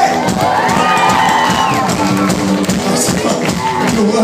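A packed crowd at a rock concert roars, cheers and whoops continuously, with loud shouting and applause filling the room throughout, and voices calling out over the steady din.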